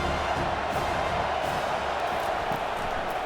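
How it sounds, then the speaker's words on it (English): Stadium crowd in a college football video game, Colorado against Utah, roaring steadily behind the defense in the red zone, a dense continuous wash of cheering throughout. "The crowd getting behind this defense as they try to get a stop in the red zone."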